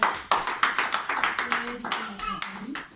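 A church congregation claps loudly in praise with a steady rhythmic beat, voices calling and cheering over the clapping at close range.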